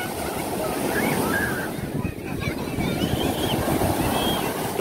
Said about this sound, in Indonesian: Deburan ombaknya lumayan keras ya